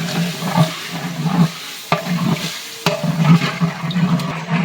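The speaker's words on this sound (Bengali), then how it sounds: "দিয়ে দিলাম পানি মশলার জন্যে" Water poured onto frying biryani spice paste sets off a loud bubbling sizzle with stirring scrapes and a couple of sharp utensil knocks, close by.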